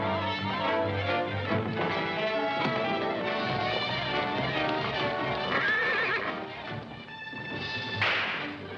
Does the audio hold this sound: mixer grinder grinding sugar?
no